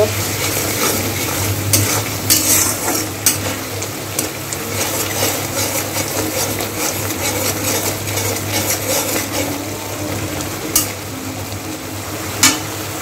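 Spice paste with tomato and salt frying for a fish curry, a dense, loud sizzle with steady stirring and sharp metallic scrapes and clinks of the spoon against the pan.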